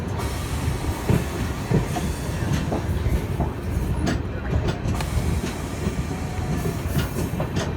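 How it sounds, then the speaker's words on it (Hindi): The Dehradun Tanakpur Weekly Express pulls out of Laksar Junction with a steady rumble and rhythmic clickety-clack of its wheels on the rails. The sound is heard from close by inside a sleeper coach, with faint speech in the background. "लक्सर जंक्शन से भी अपनी ट्रेन जो है निकल चुकी है"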